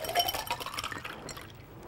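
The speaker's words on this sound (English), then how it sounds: "Pour the cocktail on the Collins glass" Cocktail poured from a shaker into a Collins glass, a close, steady liquid splash with a brief clink, tapering off toward the end.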